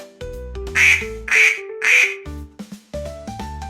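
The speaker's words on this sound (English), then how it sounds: "Duck." Three loud, nasal duck quacks come in steady succession over a light melodic background tune, with no voices present.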